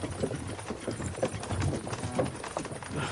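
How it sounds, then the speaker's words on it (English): In the video game Kingdom Come Deliverance 2, horses pull a cart with a steady clip-clop of hooves, joined by a continuous rumble of wheels and ambient noise. "can't you make the horses go a little faster"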